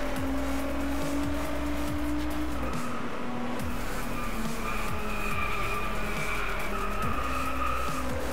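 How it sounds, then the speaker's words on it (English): A race car in the Driveclub video game spinning its wheels, with a continuous engine drone and repeated tire squeals, loud and close throughout, no talk. "that was a bit too much wheel spin there"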